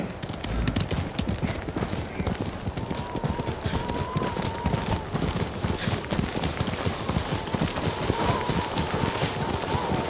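Steady clip-clop of a horse's hooves while riding through snowy terrain in Ghost of Tsushima, a continuous close trot under wind and faint tones, with no talking.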